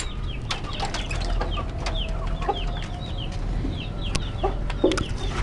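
Rhode Island Red breeder trio of chickens clucking in a hen setup, with repeated short calls and soft chatter scattered throughout over a steady low background hum.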